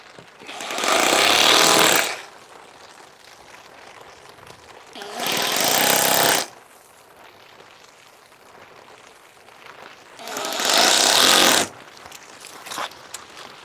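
Three loud bursts of a power drill boring fixing holes into a wall to mount a car charger, each lasting about a second or two, separated by quiet pauses.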